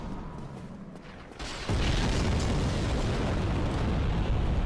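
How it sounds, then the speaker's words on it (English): Fire bomb explosions hurled by a giant in the video game Dark Souls, a low rumbling boom that jumps in loudness and then sustains as a dense, roaring fiery wash. "Attack the giant thing up there that's trying to kill me by throwing gasoline-infused... those things."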